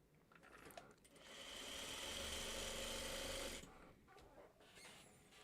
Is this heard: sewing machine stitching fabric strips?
yes